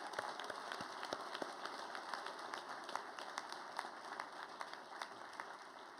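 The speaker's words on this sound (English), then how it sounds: "Please give them another round of applause." Audience applause at a civic event promoting Greater Sacramento's major league pitch, a steady wash of many hands clapping at moderate distance with a few sharper individual claps standing out, sustained evenly throughout.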